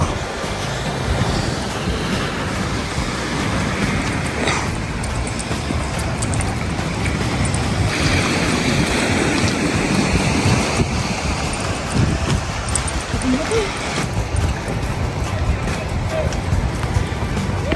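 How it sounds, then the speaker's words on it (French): Surf rolls onto the beach at Palm Mar, Tenerife, a continuous wash of waves mixed with heavy wind buffeting the microphone, with voices heard over it during a coastal walk. "Et là, on arrive à la plage où on était avant-hier soir."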